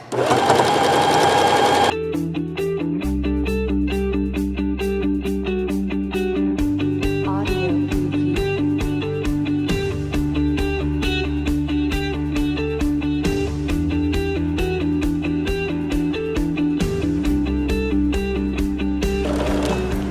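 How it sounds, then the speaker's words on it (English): A sewing machine stitches a fabric waistband casing with backstitching at the seam, running as a loud, steady mechanical whir and rapid needle chatter after a short startup, with slight shifts in speed throughout. "I want to make sure that my back stitching is going to overlap the very first one"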